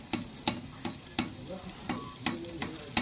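Buns frying in hot oil sizzle steadily, with repeated sharp stirring or spatter bursts recurring at a quick, irregular rhythm close by.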